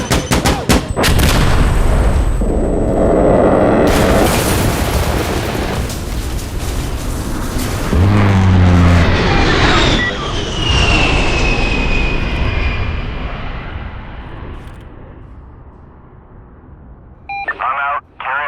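Aircraft gun run strafing in a sandstorm map of a video game: loud bursts of cannon fire and explosions with a jet engine roaring past, fading over the seconds, under radio-style voices.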